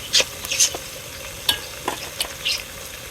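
Ginger and garlic are stir-fried in a pot, a soft sizzle punctuated by several distinct scrapes and knocks of a spoon against the pot, close and without talk.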